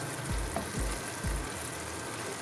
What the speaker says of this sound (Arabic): نقلي في ديك البصيله، يعني ديك الدغيميره حتى كتعسل مزيان.